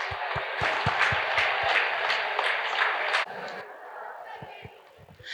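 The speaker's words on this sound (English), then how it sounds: "Parents, another huge round of applause for Paris peers." An audience at a school valedictory ceremony applauds in a roomy hall, a steady wash of clapping with some crowd noise and thumps, then a sudden drop to quieter, thinner clapping.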